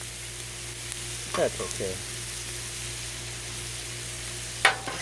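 Onion sizzles steadily on a hot griddle for a seafood boil, a constant close hiss with a few faint scraping stirs, while a voice briefly speaks.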